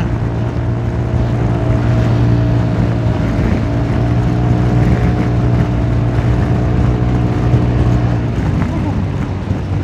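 A Honda Forza 350 scooter engine drones steadily while riding, its pitch rising and falling gently with throttle changes under wind noise throughout.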